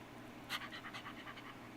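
A person imitates a dog panting, making quick, breathy, rhythmic huffs close to the mic at low volume for under two seconds.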